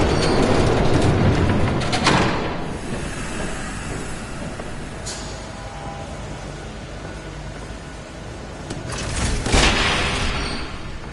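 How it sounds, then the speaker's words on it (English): A train rumbles past in the Batman: The Telltale Series video game, a loud continuous roar with bursts of hiss and clatter near the start and again near the end, no voices. "There's a train coming."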